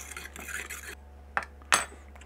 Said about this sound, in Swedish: Blanda runt den här hackade persiljan i ägget som är uppvispat.